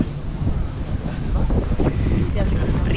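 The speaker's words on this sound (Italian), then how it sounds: "stiamo vedendo un po' come reagisce la barca a questo venticello" Wind gusts buffet a racing sailboat during the Barcolana 2021 regatta, a steady, loud roar of wind noise against the microphone with water rushing beneath, continuous across the moment with no clear talk.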